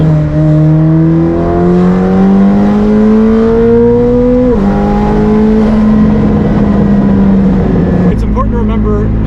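A tuned McLaren Senna hypercar's engine pulls hard through third and fourth gear, a loud rising drone that sweeps up, drops sharply at a gear change, then climbs again before easing off near the end.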